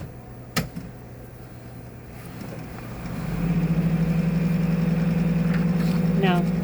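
A centrifuge in a blood bank cross-match setup spins a donor unit blood sample tube for 15 seconds, whirring up after a short knock into a steady low hum, with a brief voice near the end.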